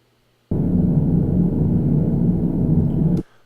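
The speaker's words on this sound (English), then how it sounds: "interior hum is known as room tone." Interior room tone hum loop, a steady low broadband rumble that switches on suddenly, holds even and fairly loud for about three seconds, then cuts off.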